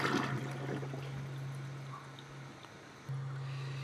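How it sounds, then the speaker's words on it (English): A TOTO Aurora toilet fitted with a Washlet Plus S7A seat flushes, giving a steady rushing and gurgling of water with a low hum that briefly stops and then returns, heard close and without talk. "We should also check the flush on this toilet just to make sure that everything's running well"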